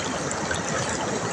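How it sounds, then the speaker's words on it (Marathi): Water trickling and flowing steadily outdoors, a dense continuous rush with no break. "पाणी पाणी पाणी पाणी."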